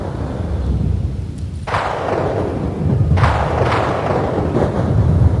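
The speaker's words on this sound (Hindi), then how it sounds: "भयंकर तूफान ने गरजते हुए धावा बोल दिया।" A raging thunderstorm with snowfall roars continuously, loud and close, broken by several heavy thunder booms and cracks that rumble on.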